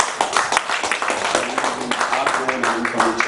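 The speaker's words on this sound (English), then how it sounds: "A round of applause." A round of applause at a Nigerian sports journalists' convention dinner: brisk crowd clapping throughout, close and fairly loud, with a low hum of voices underneath.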